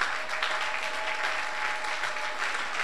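A church congregation applauds steadily, a dense, even wash of many hands clapping together with some cheering, with no break.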